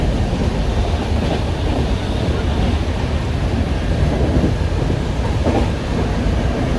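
A train at Dadar station in Mumbai rumbles loudly and steadily nearby with rhythmic rail clatter and a windy roar, with no clear speech.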